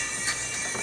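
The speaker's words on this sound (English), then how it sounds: "You can hear CO2 rushing into the tank." Pressurized CO2 gas rushing through a Presh-R-Matic adapter into a Coleman lantern's fuel tank, a steady airy hiss with slight swells, close and continuous through the moment.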